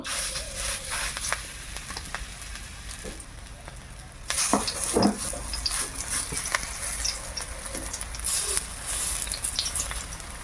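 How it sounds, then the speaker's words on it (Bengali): Thankuni leaf fritters fry in hot oil in a wok, a steady crackling sizzle with occasional stirring clinks, growing louder and busier midway as more batter goes in. "চলুন এবারে বড়াটা ভেজে নেই।"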